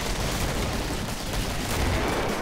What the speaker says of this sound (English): Yeah, I threw mad grenades over there.